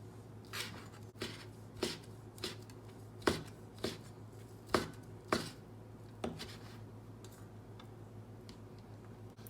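A knife chops mushrooms on a cutting board in a home kitchen, about a dozen crisp, separate strokes at an uneven pace over quiet room hum, fairly faint and close, no talk.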